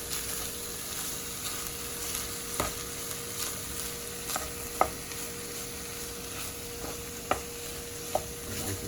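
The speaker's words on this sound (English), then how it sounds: "It's sizzling." Steady sizzling of burrito filling in a hot pan with occasional scrapes and taps of a utensil stirring the food, close and fairly quiet.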